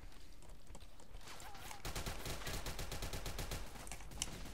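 Rapid bursts of automatic gunfire with incendiary ammo in a first-person shooter game, a dense, loud, continuous rattle of shots carrying on for several seconds over a steady background.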